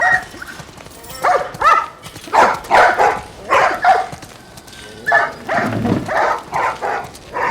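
A dog barks again and again in short, sharp bursts with brief pauses between them, close and loud, in The Last of Us Part 1.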